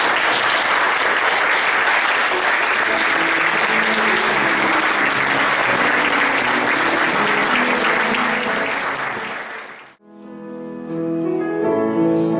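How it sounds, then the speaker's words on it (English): An audience at an honorary ordination ceremony claps in loud, dense, sustained applause for about ten seconds, then it drops off abruptly and gives way to quieter room sound. "I would like to invite all of David's family and close connections who are here to come forward to receive the certificate and to your applause for David's life"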